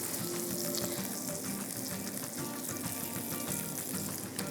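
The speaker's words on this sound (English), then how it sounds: "So I'm gonna do that by using this hot butter and basting out." Salmon fillet in a hot pan with butter, garlic and thyme, a steady crackling sizzle spattering throughout as the butter is basted over it, close and continuous with no talking.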